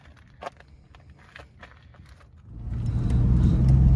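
Inside a Ford Mustang, a few dull clicks and knocks come first, then the engine rumble rises and settles into a steady low drone as the car drives off.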